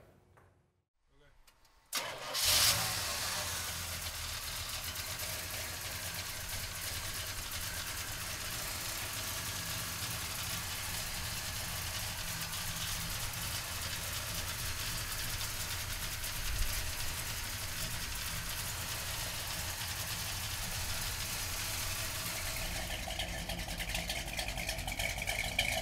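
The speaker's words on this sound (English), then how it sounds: "So come on up and we'll fire it up." A 1970 Oldsmobile 442 W-30 cranks briefly and fires up after a quiet moment, then settles into a loud, steady rumbling idle that holds for over twenty seconds.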